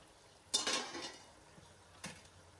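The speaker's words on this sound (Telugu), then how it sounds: "ఒకసారి కలిపేసి మరి కొద్దిసేపు ఫ్రై చేసుకుందాం" Chicken curry masala with coriander powder frying in a pan and stirred, giving a soft sizzle and two scraping strokes of a spoon against the pan, quiet and close with no voices.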